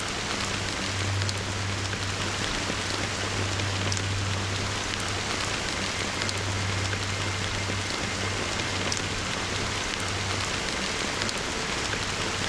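Steady rain falling in the Honkai Star Rail video game, a continuous even hiss of drops on surfaces with a low hum underneath, no voices.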